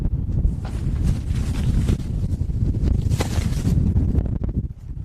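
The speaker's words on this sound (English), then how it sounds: "All right, so I'm blocking a lot of the wind here." Strong wind buffets a microphone outdoors at a rocket launch viewing site, a loud continuous low rumble with gusty surges throughout and a brief dip near the end.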